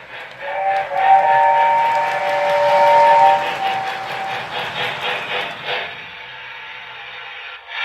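Lionel Hogwarts Express toy train engine sounding its whistle, a loud, close, sustained tonal blast over about three seconds above steady mechanical chuffing, which fades out toward the end.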